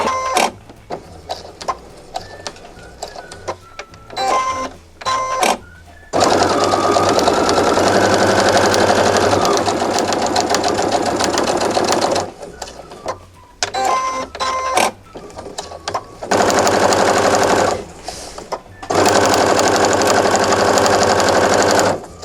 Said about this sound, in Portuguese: Costurei a parte de cima do bolso